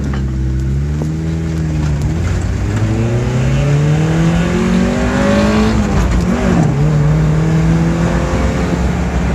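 A Mazda Miata with its factory exhaust and manual gearbox pulls hard, the engine note climbing through revs, briefly dipping at a gear change around the middle, then rising again; loud and close, no voices.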